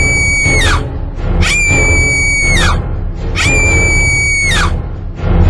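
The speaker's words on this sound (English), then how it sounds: "Little Red Riding Hood screamed right before the wolf swallowed her." A girl's screams as the wolf pounces, in a storytelling of Little Red Riding Hood: three long, loud, high-pitched cries, each ending with a falling tail, with short gaps between them.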